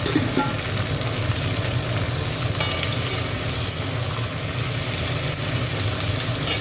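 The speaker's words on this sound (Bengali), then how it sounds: "একটু পেঁয়াজের মধ্যে টমেটোটা দিয়ে এবার ভাজবো।" Onion and tomato frying in a pan give a steady, close sizzle with faint bubbling, unbroken and without speech, over a low background hum.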